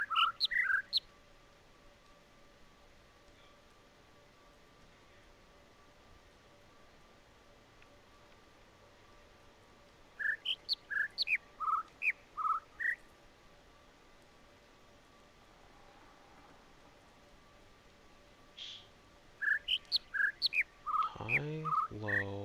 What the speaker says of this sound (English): Today we are listening to the Dickaroo and the Cockfeather.